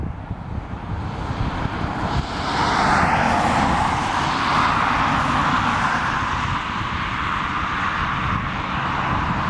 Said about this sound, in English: There's another 737-800 right there.